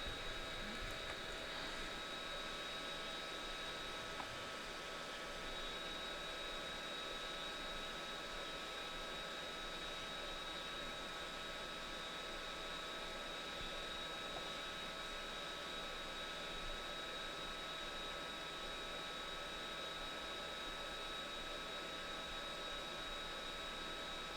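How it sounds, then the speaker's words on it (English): A hot air rework station set to 360 degrees blows at full airspeed through a narrow nozzle during a Game Boy Advance SP board repair, a steady, continuous airy hiss with a faint high whine, close and unchanging for the whole stretch. "Got my hot air set to 360, full airspeed with my narrow nozzle"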